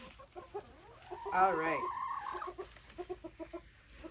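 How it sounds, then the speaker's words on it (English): Chickens cluck in quick, close, rhythmic bursts, with a louder squawking call partway through. A person says a couple of words softly over them. "Chickens make a lot of different noises, right?"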